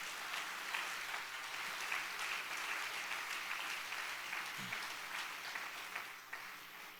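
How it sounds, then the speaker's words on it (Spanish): A church congregation claps for Jesus during a Spanish-language sermon, giving steady, moderately distant applause throughout with a faint voice briefly rising underneath. "dele fuerte el aplauso al Señor Jesús"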